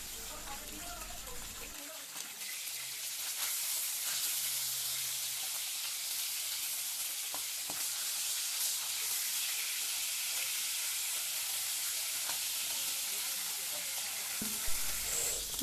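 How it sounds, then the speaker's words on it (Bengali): Fish frying lightly in oil in a pan on a stove, a steady bright sizzle that starts after a moment and holds loud and even throughout, close up with no talking. "মাছটা আমি হালকাভাবে ভেজে নেব।"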